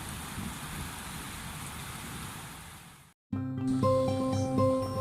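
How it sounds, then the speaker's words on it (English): Heavy, steady rain lashes down in a garden for about three seconds, then cuts out abruptly and gives way to a different, tonal sound with a strong hum. "it is absolutely lashing with rain."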